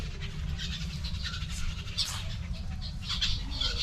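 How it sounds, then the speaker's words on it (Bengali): Birds call and squawk in the gardens and woods behind a temple at a zamindar house estate in Narail, bright scattered chirps over a steady low rumble, fairly distant and continuous. "অনেক পাখি টাকি আছে"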